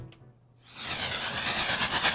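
A synthesized magic orb charge-up effect for a D&D rage mage, oscillator run through saturation and tremolo, swelling from near silence into a dense, hissing, pulsing wash that holds steady to the end.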